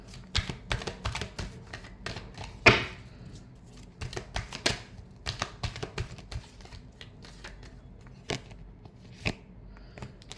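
Tarot cards shuffled by hand in a quiet room: a steady run of soft, close riffles and crisp snaps, with one sharper slap partway through and no talking.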